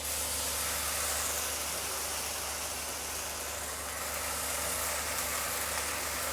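Mustard seeds and batter sizzling in a lightly oiled hot pan, giving a steady, close hiss that stays even from start to finish with no talking.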